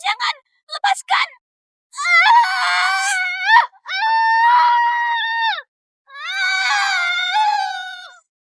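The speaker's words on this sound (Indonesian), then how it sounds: "Pasti teriakan dari pembantu rendahan di luar itu yang membuat Anda gelisah." A woman screams in anguish as she is branded on the face, starting with short gasping cries, then three long, loud, wavering shrieks separated by brief silences.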